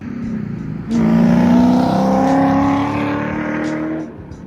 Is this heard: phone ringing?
no